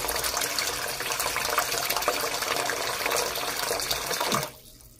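Water gushes steadily from a tap into a container, filling about one liter, a continuous loud running stream that cuts off abruptly near the end.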